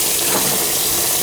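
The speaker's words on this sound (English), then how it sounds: "So I'll just fill the sink up with hot water." Hot water runs steadily from a tap into a sink, a constant close splashing rush with no voices, used while replacing a toilet.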